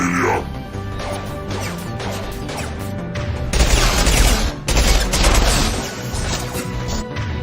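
Sniper rifle fire in the Mass Effect 2 shooter game, loud repeated shots and impacts crashing through a busy battle with a steady drone beneath.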